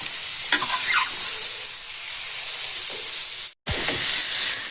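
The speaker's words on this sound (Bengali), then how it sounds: "সেই গাজরগুলোকে একটু আমি বাটারে ভেজে নেব" Grated carrots frying in butter in a pan: a steady close sizzle with scraping stirs of a spatula and a brief dropout near the end, no talk.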